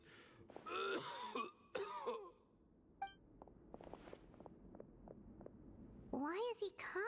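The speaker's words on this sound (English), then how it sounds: "Why is he coughing so much?" A Genshin Impact game character coughs and clears his throat in short harsh bursts, close and fairly loud, with breaks between them, while light game sounds and soft footsteps carry on in the background.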